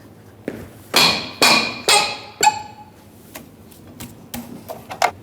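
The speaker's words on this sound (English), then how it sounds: "take your tire iron and break free the lug nuts while the vehicle's still on the ground" A tire iron strikes and breaks loose the lug nuts on a 2006-2011 Honda Civic still resting on the ground: four loud sharp metallic knocks in quick succession, then lighter scattered taps and clicks.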